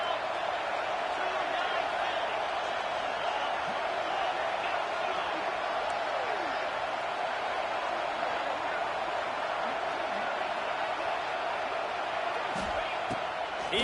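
Broad crowd roar from a college football stadium swells steadily behind a third-down defensive stand, sustained and loud with scattered whoops, and a commentator talking over it.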